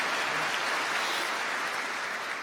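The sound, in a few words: audience applause at commencement ceremony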